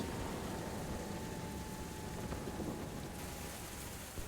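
Steady, dense rain from stormy weather in the War Thunder tank game, a continuous hiss that lasts throughout without any clear thunder claps.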